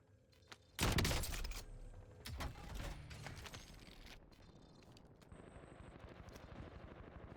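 A sharp burst of Kilo rifle fire in a video game opens loudly, followed by more scattered shots and clattering impacts that fade into a lower rumbling game ambience; fairly quiet overall.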